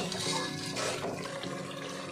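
Water poured into a ready masala in a cooking pot while making beef white yakhni pulao, a steady continuous splashing pour that stays fairly loud and even throughout, with no talking.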